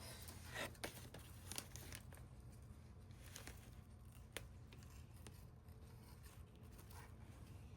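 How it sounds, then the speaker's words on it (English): Repeated sharp snips and crinkly cutting of coco coir with scissors, close up and fairly quiet, with a steady low hum underneath. "I'm gonna take this cocoa core thing off first with some scissors"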